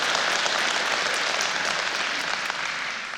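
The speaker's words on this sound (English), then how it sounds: "So give him a hand" Church congregation applauding during a service, a full, even roar of many hands clapping that eases slightly at the end.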